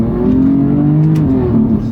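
BMW M3 F80 engine droning steadily up close with a buzzy, lawnmower-like tone, holding a rev for about two seconds with slight pitch shifts and no talking.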